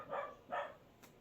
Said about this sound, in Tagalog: Tumatahol ang kanyang kapatid guys.